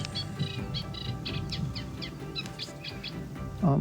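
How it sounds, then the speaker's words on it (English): A reed warbler sings from reeds at RSPB Otmoor, a rapid chattering series of scratchy chirps repeating at a steady pace, moderately close over low background rumble, ending with a brief louder noise. "Just walking by some reeds and a little reed warbler."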